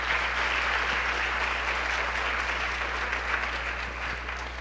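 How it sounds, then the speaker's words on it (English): A concert audience gives sustained applause for the sponsors of a choir performance, a dense steady patter of many hands clapping at once over a low constant hum. "Please give them a round of applause."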